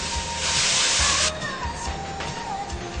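Loud sizzling hiss of stir-frying over high heat in a wok with sesame oil, a strong burst of spitting noise that then settles into a steadier crackle, with faint clatter underneath and no talk.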